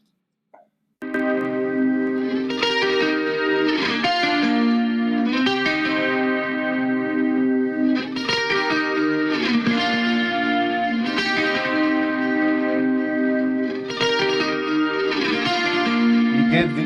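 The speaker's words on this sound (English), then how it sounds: "you get this lush sound with Dimension D SPX 90 harmonizer and then two different delays" Sustained electric guitar chords drenched in Dimension D chorus shimmer, SPX90 harmonizer and two repeating delays including ping-pong, lush and continuous with no voices.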